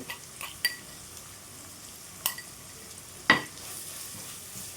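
Ginger garlic paste fries quietly in a pan for an egg omelette curry, a faint, steady sizzle broken by a few sharp clicks and scrapes as it is stirred.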